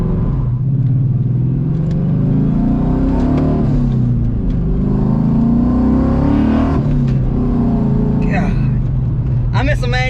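A Coyote-swapped 1997 Ford Mustang Cobra with a manual gearbox, its V8 loud and close from the cabin, revving and pulling through rising and falling engine notes, with someone talking over it.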